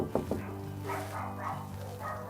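A puppy barks a few times in short bursts near a house viewing, followed by softer yips and whines, close and moderately loud.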